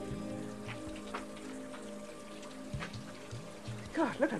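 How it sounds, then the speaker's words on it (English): A thin, steady trickle of running water splashes quietly in the background, with faint murmurs and a brief louder splashing near the end. "Look at the tap. It's pouring down."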